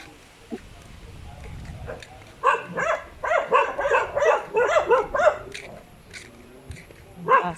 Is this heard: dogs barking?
yes